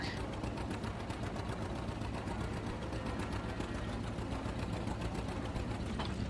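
A tractor engine idles in Farming Simulator 22 on a 1950s farm, a steady low chugging rumble with a fast mechanical rattle running evenly throughout, heard alone at a moderate level.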